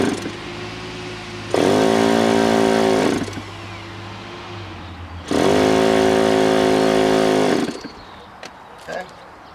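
A nitro glow engine in a Top Flight P51D Mustang model plane, started up for the first time in eight years, runs in two loud steady bursts of about two seconds each, with a lower idle and faint sputter between them.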